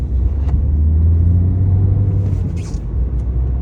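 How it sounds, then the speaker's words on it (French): A Peugeot 208 Blue HDi 100 diesel engine revs up under acceleration in second gear, a steady loud rumbling drone with a low hum throughout, close by and without voices. "je vais me mettre en seconde et je vais faire une petite accélération"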